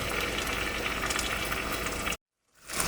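Afghani chicken gravy with masala sizzling and bubbling steadily in a frying pan, a continuous close hiss that cuts off abruptly near the end before resuming.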